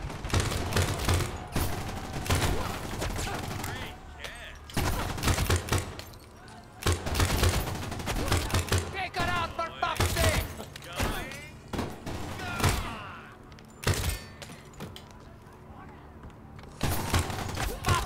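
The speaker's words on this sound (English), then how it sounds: "Guns." Dense gunfire in the video game Crime Boss: Rockay City, rapid bursts and repeated loud shots stretching through a chaotic fight, with speech and shouting mixed in.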